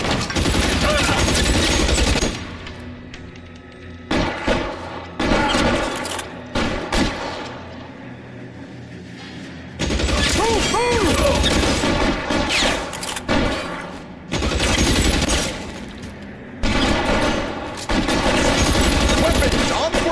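Heavy video-game gunfire, a sustained covering barrage of rapid bursts and booming shots, loud and close, with brief lulls before the firing resumes; voices speak over it.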